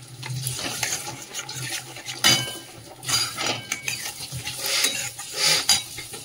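Mustard and green chili paste is stirred in hot oil in a pan, with intermittent scraping and clinking of a utensil over a soft sizzle, close and moderately quiet.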